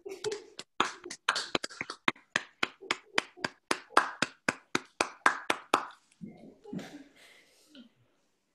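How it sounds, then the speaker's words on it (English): A small audience claps after an at-home opera recital with soprano and piano, a few distinct hands beating about fifteen sharp, fairly even claps before fading, followed by a brief murmur of voices. "Come on, let's give you a big round of applause."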